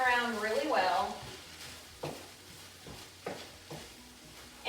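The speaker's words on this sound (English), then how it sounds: "we're going to add in the marinade. Stir that around really well." Meat sizzling in a hot pan on low heat with marinade being stirred in, a steady sizzle with periodic scraping strokes of stirring, close by, with a voice over it at first.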